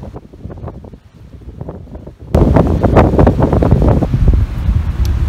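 Strong wind buffets the microphone at the seaside in Bandol, rustling and gusting steadily, then jumping to a much louder, roaring blast of wind noise that persists to the end.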